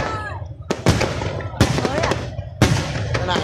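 Fireworks burst at a celebration in three loud, sharp booms, each followed by crackling trails, with voices talking throughout.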